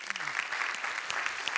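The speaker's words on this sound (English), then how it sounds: "Can I have a warm applause for Nancy Foner?" An audience claps warmly for a speaker at a theater talk event, a steady, even wash of applause from a fairly large crowd, fairly close and unbroken.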